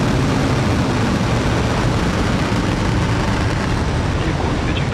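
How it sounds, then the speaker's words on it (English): SpaceX Falcon 9 rocket liftoff, a continuous broadband roar that stays loud and steady throughout, with a voice faintly present beneath the rumble. "Ignition. And liftoff."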